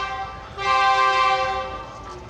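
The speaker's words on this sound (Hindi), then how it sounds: "एक लोकोमोटिव की आवाज़ आई, GU40" A GU40 diesel locomotive at Khanewal Junction sounds a loud, tonal horn blast that starts abruptly, holds for over a second, then fades back into the surrounding hum.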